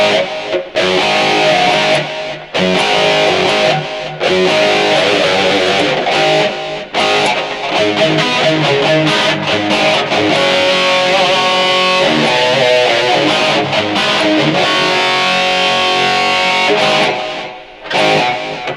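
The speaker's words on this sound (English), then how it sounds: "This is just the basic, hard, in-your-face guitar tone." Hard, crunchy electric guitar through a modified Marshall amp with delay and reverb, loud distorted riffing and chords played continuously with brief gaps, no voices.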